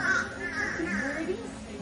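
Birds at an aviary in Cypress Gardens give harsh crow-like caws over a busy background, with people talking nearby.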